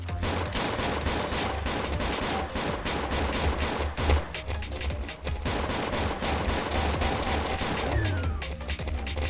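Rapid bursts of video game gunfire in Niftyland crackle almost continuously, dense volleys of shots layered over a low rumble, loud and close throughout.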